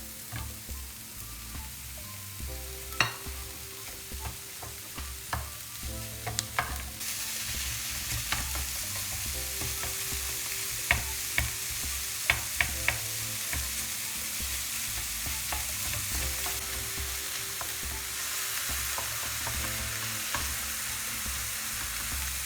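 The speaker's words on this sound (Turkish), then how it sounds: "Pembeleşinceye kadar soğanlarımızı kavuracağız" Onions and minced meat fry in a pan under a constant hiss. Scattered clicks and scrapes of stirring cut through it now and then, and nobody speaks.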